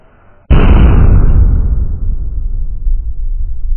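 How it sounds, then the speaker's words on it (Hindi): A Mercury bullet bomb Diwali firecracker goes off with one sudden, very loud close blast, followed by a long roaring, rumbling decay with no voices. "भाई ये रहा मरकरी का 55 रुपए का बुलेट बम"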